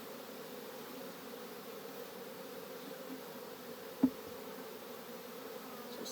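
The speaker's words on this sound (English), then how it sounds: "You can see the bees on there." Honey bees buzz during a honey harvest at the hive as a faint, steady low drone throughout, with one brief soft tap partway through and no talk.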